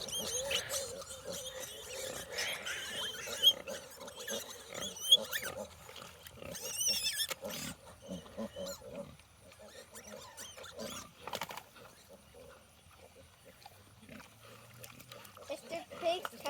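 A pig in a garden grunts and oinks as it moves closer, with scattered squeals and shuffling patter, mostly under people talking nearby outdoors.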